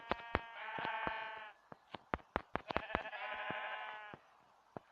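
Sheep in the video game Minecraft bleat repeatedly in two drawn-out, wavering calls, clear and close, broken up by sharp clicking game hits and thumps in between.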